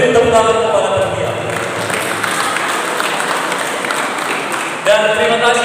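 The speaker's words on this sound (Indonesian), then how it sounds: "Beri tepuk tangan kepada panitia." A church reception crowd at a religious vows celebration breaks into steady applause, a dense wash of many hands clapping that holds for several seconds before a voice returns near the end.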